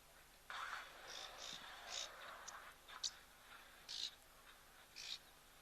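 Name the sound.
orange-breasted bush shrike calling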